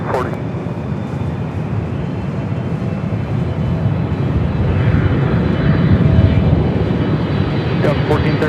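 A Southwest jet airliner on approach to land at LAX runway 24 right gives a loud, steady engine roar with a broad rushing whine that swells slightly, while radio chatter runs over it.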